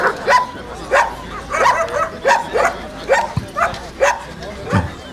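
A German shepherd dog barks repeatedly in a steady rhythm of about one bark per half second, loud and close, with some yipping and whining mixed in.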